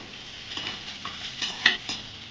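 A spoon stirring green chillies and curry leaves frying in a tempering, with a soft sizzle under several scraping, clinking strokes against the pan, one of them sharper and louder.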